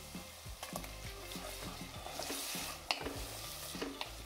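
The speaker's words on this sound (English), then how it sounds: "Now we add the tomato puree." Tomato puree cooks with garam masala and other masalas in a pan on a simmering flame, a soft, steady sizzle broken by repeated light stirring scrapes and a few knocks, with no voices.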